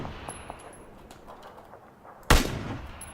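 One loud gunshot cracks out in a PUBG match, a single sharp burst with a short ringing tail, preceded by quiet game ambience and faint tones.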